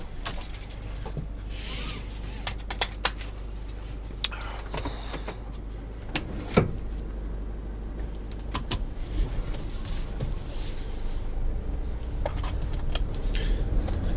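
A 2019 Toyota Hi-Ace van on the move, heard from inside the cab as a steady low road and engine drone, with scattered clicks and light rattles over the top.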